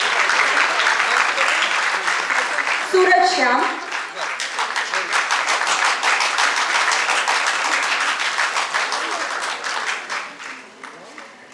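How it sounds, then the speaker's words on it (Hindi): Loud, sustained applause from an audience for two young girls at a Shakuntalam ballet performance, steady dense clapping over about eleven seconds, with an announcer speaking names over it. "दोनों के लिए तो जोरदार तालियां"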